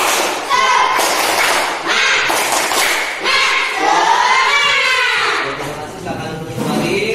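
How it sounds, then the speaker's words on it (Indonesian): A classroom of students doing rhythmic spirit clapping (tepuk semangat): sharp clap patterns come in repeated groups, close and loud, mixed with chanting voices that rise and fall between the claps. "Kita tepuk semangat yang berkalinya."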